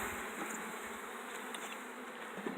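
Dense, constant buzzing of many Africanized honeybees close by as they are shaken off a hive frame, a thick humming swarm with no voices.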